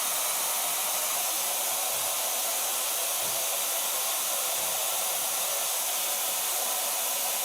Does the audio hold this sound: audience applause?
no